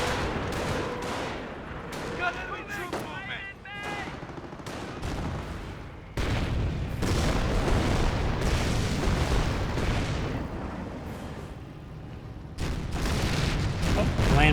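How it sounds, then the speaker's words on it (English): A landmine detonates in the Company of Heroes World War II strategy game amid a busy battle, with dull blasts and bursts of gunfire and cannon shots repeating over a constant roar of combat noise. "landmine's been detonated, I believe."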